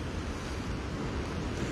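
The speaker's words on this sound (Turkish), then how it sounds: "biraz daha denizi gösterelim, dalgaları gösterelim" Sea waves crashing along the Kilimli coastal road in Zonguldak during heavy rain and a storm, a steady broadband roar of surf mixed with wind noise buffeting the microphone, continuous and loud throughout.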